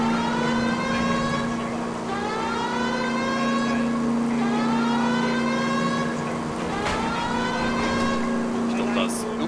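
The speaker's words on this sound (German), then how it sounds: "Klingt wie Sirene eigentlich hier." A wailing police siren in the video game L.A. Noire rises and falls in repeated sweeping cycles, steady and fairly loud over a constant engine hum, with no talk.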